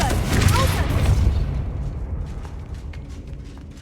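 A Confringo fire spell explodes in Hogwarts Legacy, giving a loud booming blast with crackling debris that decays over a few seconds into a fading rumble.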